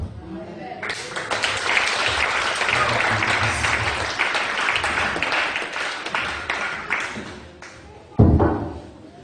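A church congregation at a French-language revival service claps and applauds loudly, a dense sustained burst that swells, tapers slightly, then flares again briefly near the end.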